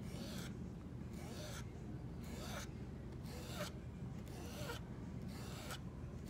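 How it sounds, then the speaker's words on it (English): A small squeegee is dragged repeatedly across a surface while a patina and rust finish is applied, giving a steady series of rasping scrapes at a regular rhythm, close and fairly quiet over a constant low background hum. "You can use the little small ones and just scrape it over."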